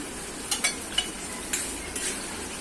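Tomato puree sautéing in oil with ginger-garlic paste for rajma, a low steady sizzle broken by a few light spoon clinks and scrapes against the pan.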